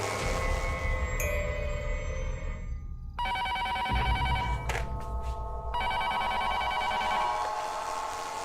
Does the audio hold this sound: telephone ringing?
yes